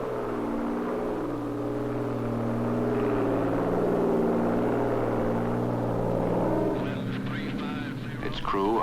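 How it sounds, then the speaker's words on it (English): A 1960s U.S. Navy Hurricane Hunter aircraft flying toward a hurricane gives a steady droning propeller hum, moderately loud and continuous, with someone narrating over it throughout. "This airplane is heading toward a hurricane."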